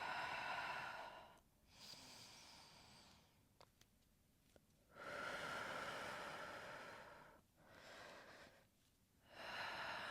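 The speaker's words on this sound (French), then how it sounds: "Une grande inspire par le nez et une longue expire par la bouche." Slow deep breathing during a yoga flow session: a long, airy inhale through the nose followed by an extended exhale through the mouth, repeating in broad swells, close and soft, with no talk over it.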